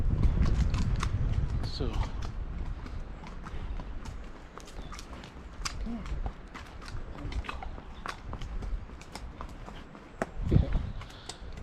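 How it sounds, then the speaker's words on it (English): A horse in steel shoes descends a steep hill in Devon, its hooves clopping and scraping unevenly at moderate distance, with creaks and someone talking over the steps. "got a horse with steel shoes on and you're coming down a steep hill like here"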